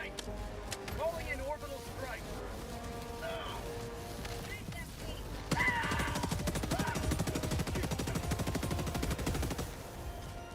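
Gatling barrage strike in Helldivers 2 pours rapid, dense gunfire and booming impacts onto a bug nest, a continuous rattling barrage that grows heavier midway, with voices talking over it.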